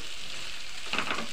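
Carrots fry gently in a pan on low heat, giving a steady, close sizzle with a brief stir near the end.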